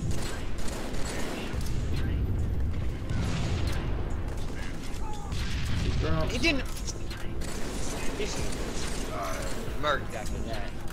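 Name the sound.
gunfire from Halo 3 video game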